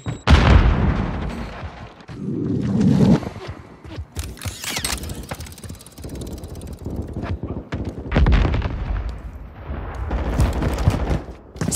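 A Semtex grenade explodes amid gunfire in Call of Duty: Modern Warfare 3. Several loud booms and bursts of shots come in irregular clusters, separated by rumbling gaps.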